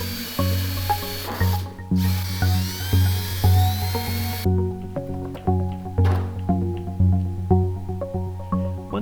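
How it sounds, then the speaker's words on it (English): A drill cuts 1 1/8 inch holes for a gauge pod panel, its high whine rising and dropping in repeated short bursts as the bit bites into the material nearby. "We will mark and drill the center hole first"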